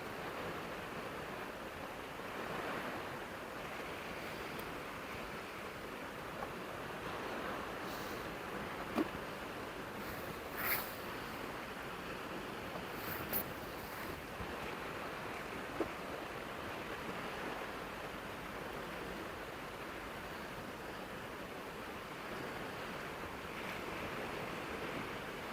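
Ocean waves wash steadily onto a beach in a soft, continuous rush, with gusts of wind buffeting the microphone now and then and a few faint clicks nearby.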